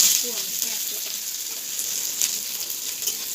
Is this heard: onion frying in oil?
yes